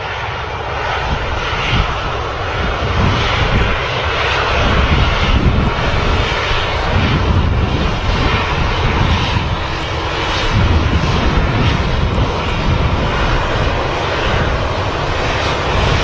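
Aircraft engines roaring at Manchester Airport, a steady, loud broadband rumble that swells and eases slightly over time, heard from a distance with no voices.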